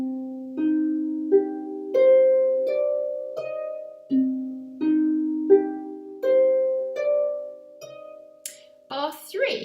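Harp playing the opening two bars of In the Gloaming, with single plucked notes ringing and decaying in a slow stepwise melody, clear and close, and a brief voice entering at the very end.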